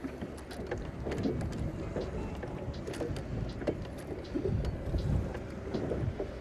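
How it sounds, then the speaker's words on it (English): A boat's trolling motor runs steadily on a lake during late-fall catfish fishing, its low continuous hum partly buried under gusty wind buffeting the microphone. "Trolling motor's still going strong, thankfully."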